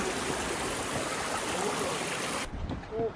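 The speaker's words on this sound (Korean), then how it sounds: "전날 비가 많이 와서 계곡에 물이 엄청 많았어요." A mountain valley stream swollen after heavy rain rushes in a dense, constant roar of water, loud and close, cutting out abruptly near the end.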